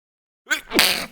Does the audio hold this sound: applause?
no